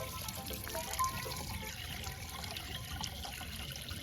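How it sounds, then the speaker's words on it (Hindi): Water pours steadily into a water pump supplied with a power weeder, a continuous close splashing trickle that runs unbroken with no voices. "तो आप यहाँ से आप पानी आराम से डाल सकते हैं"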